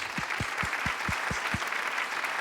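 Applause at a college commencement ceremony, a steady wash of many hands clapping under a distinct slow, rhythmic thumping beat.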